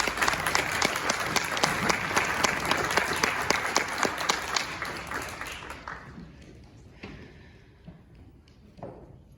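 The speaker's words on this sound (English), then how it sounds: "Go ahead and give a round of applause." A crowd at a panel discussion applauds a guest, dense clapping that holds strong for several seconds and then thins out to a few scattered claps, with faint murmuring underneath.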